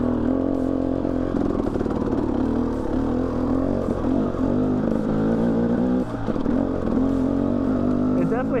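KTM dirt bike engine, a 250XCW or 300, revving continuously with a rough, rising and falling drone that dominates throughout, under a steady clattering motor note.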